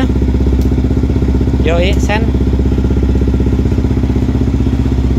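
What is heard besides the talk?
Yamaha WR155 motorcycle engine idling through exhaust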